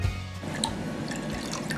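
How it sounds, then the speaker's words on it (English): Water is poured into a pan with 100 grams of sugar for a sugar syrup, giving a steady close trickle and splash with faint drips, alone and without talk. "Add 60 millilitres water."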